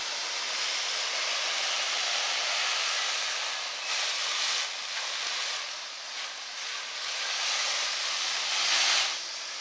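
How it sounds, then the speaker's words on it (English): Garden hose spraying water steadily onto a Khan tent, a continuous broad hiss with small surges in strength, fairly close and alone without any voices. "I turned the garden hose on the tent for a good half hour"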